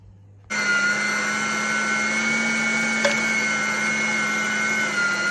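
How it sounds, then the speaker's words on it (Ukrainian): A meat grinder motor hums steadily while grinding half a kilo each of carrots and onions, a loud continuous drone with a brief click midway and no talking. "будемо зараз крутити її на м'ясорубку"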